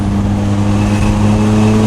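Hybrid-turbo Ford Fiesta ST on backroads, a loud, close, steady engine drone with turbo whine layered on top, no talking.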